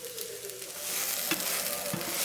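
Hash browns frying in a pan on a stove at medium heat give a steady, close sizzle that swells slightly, with a couple of soft taps as they are turned.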